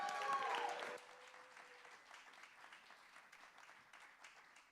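Audience at a live music venue, The Bedford, claps fairly faintly and steadily after a short musical sting fades out in the first second.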